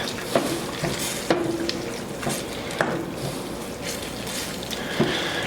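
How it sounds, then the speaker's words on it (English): Heavy cream being stirred into vodka sauce in a pan, a wet, squishy sizzle punctuated by regular spoon knocks and scrapes about once a second, close and moderately quiet. "I'm going to put the heavy cream in now. We're going to stir that up really well."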